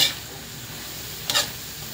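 Chayote and carrot being stirred in a sauté pan, with a soft sizzle running throughout and two brief scraping stirs, one at the start and one near the middle, close and fairly quiet.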